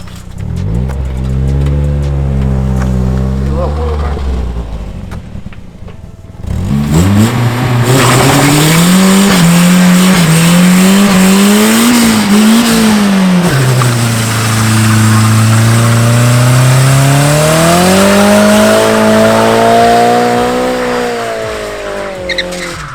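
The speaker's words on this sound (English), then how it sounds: "I'll do a burnout" A car doing a burnout before its motor is pulled: engine revs rise and fall in long sustained pulls while tires squeal loudly and continuously, close and very loud throughout.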